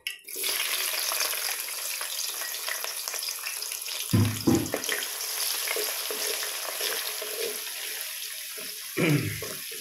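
Chopped onions hit hot oil in a pan for a Malaysian fish curry and sizzle steadily, with louder stirring scrapes and splashes of sizzle around the middle and again near the end.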